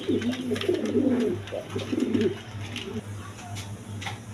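A pair of Lahori pigeons coo in low, rolling bursts close by, two longer phrases followed by a softer one, over a steady low hum with faint background noise.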